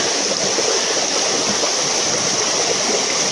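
A river stream flowing steadily, a dense continuous rushing and hissing of water close by, loud and unbroken with no voices over it.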